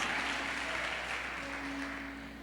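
An audience applauding at a church conference, steady dense clapping throughout that slowly tapers toward the end, with no voices over it.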